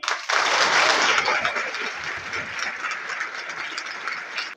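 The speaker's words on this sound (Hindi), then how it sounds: "अपने रोहतास के लिए जोरदार तालियां" A crowd bursts into loud, sustained applause at a smart classroom opening in Rohtas town council, India, dense clapping that swells quickly and holds steady for several seconds.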